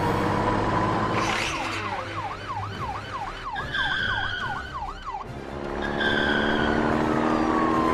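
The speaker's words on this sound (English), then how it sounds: "Its wheels span as he raced out the yard" A truck's wheels spinning as it races off out of a yard, with screeching tyre skids under a wailing police siren that sweeps up and down, loud and close, with no talking.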